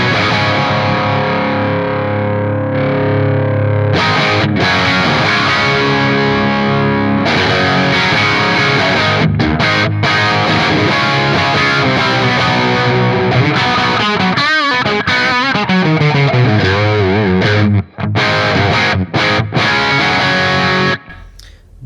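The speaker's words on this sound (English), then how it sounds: "Crunch 2 FX. Okay, so that's adding a lot of reverb and delay." An electric guitar played through a crunch distortion effect with heavy reverb and delay rings out loud and continuous, with sustained chords and notes trailing into echoing tails.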